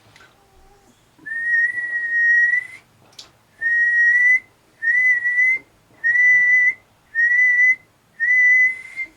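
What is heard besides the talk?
whistling into Midland CB radio on SSB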